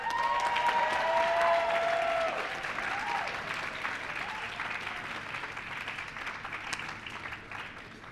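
An audience in a tent at a seminary commencement ceremony giving a hearty round of applause, a dense roll of clapping with a few faint voices that fades gradually to scattered claps.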